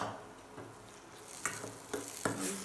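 Soft onions and sugar sizzle in a pan for Indori kanda poha masala, a steady close frying hiss broken by three or four scraping stirs of a spoon; no talking.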